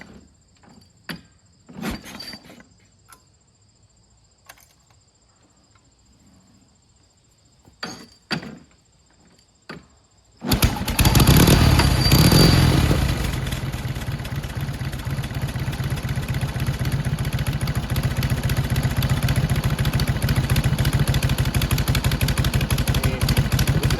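Scattered clunks and taps give way to a 1948 Indian Chief motorcycle engine kick-starting and running, a loud, steady, rapid thumping idle that continues to the end.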